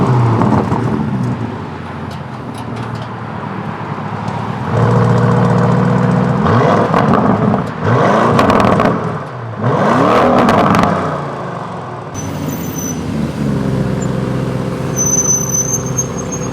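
A 2022 Lamborghini Urus SUV engine rumbles while driving, shifting between a low steady drone and louder revving surges with rising and falling pitch, heard close from inside the vehicle.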